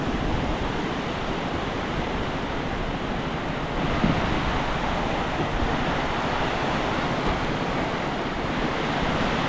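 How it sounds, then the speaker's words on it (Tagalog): High ocean waves surging and washing in a steady, loud roar with constant wind rush, no clear breaks between swells, heard from close by on the water. "Taas ng alon."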